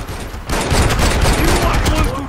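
Rapid gunfire in Far Cry 4, a dense fusillade of overlapping shots that is loud and close and runs for the whole burst, with a voice shouting over part of it.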